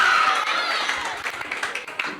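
Clapping from an audience at a Tamil Christian debate event (pattimandram), scattered hand claps at moderate distance that thin out over a couple of seconds, with some background noise.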